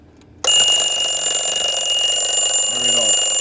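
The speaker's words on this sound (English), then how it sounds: "this is when the alarm will go off" A Westclox mechanical alarm clock goes off after its alarm is tripped, a loud, continuous metallic bell clatter starting abruptly and ringing close by, with faint talk underneath toward the end.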